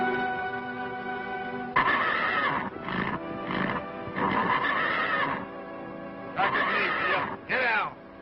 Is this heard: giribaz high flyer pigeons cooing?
no